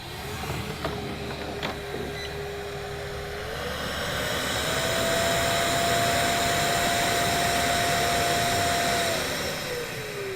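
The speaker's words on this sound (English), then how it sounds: "once it docks, it is going to compress all of that into the bin" A Freo X Ultra robot vacuum dock compacts dust into its bin, a steady mechanical whir that rises in pitch partway through, holds, then winds down, with a few faint clicks early on.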